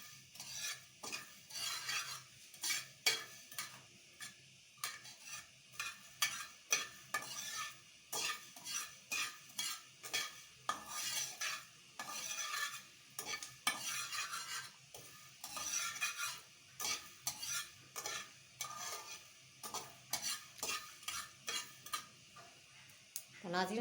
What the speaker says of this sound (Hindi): मैं फ्राइंग पैन में रोस्ट कर रही हूँ।